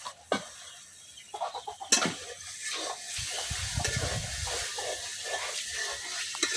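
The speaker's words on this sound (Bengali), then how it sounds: "এই জন্য আমি কাঁঠালের বিচিগুলো আগে কষাই নিতেছি যেন সিদ্ধ হয়ে যায়।" Jackfruit seeds stir-fried in a pan for a rural village dish: a few sharp scraping stirs of a spatula, then a steady, close sizzle of frying punctuated by further stirring.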